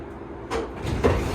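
Sliding doors of a tram train at the Minneapolis/St. Paul International Airport Terminal 1 station close with two rumbling whooshes, one after the other, near and fairly loud over a steady hum.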